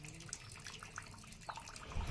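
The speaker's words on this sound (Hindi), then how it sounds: "आप पानी की आवाज़ इसमें सुन रहे होंगे" Water trickles and splashes at the Saraswati Kund spring in Ukhimath, a faint, steady flow with small drips and gurgles, heard alone without speech.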